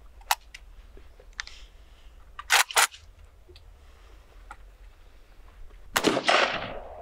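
A 7.62x39 Kalashnikov assault rifle firing single shots outdoors: a couple of sharp cracks, a pair of loud reports in quick succession, and a final booming shot with a trailing echo, against quiet background.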